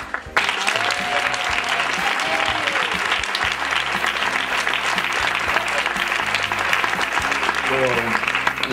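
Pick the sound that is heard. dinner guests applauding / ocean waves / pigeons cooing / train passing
dinner guests applauding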